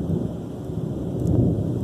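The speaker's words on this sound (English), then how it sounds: "In Iowa, a rare thundersnow seen rolling in overnight." Thunder during rare overnight thundersnow in Iowa: a low, continuous rumble with a dull swell partway through, steady and broadband like distant thunder mixed with wind noise, and no voices.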